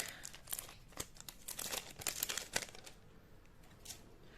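A Magic: The Gathering Innistrad Crimson Vow booster pack wrapper is torn open up close, giving a run of sharp, irregular foil crinkles and crackles that fade into quieter rustling, with no talking.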